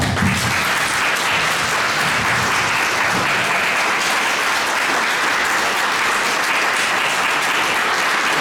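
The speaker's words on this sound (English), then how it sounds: "They clapped because he stood up" Sustained audience applause at a city candidate forum in Downey, loud and dense throughout, many hands clapping steadily with no talk over it.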